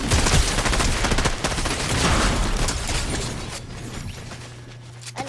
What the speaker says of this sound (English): I hear those shots coming from over here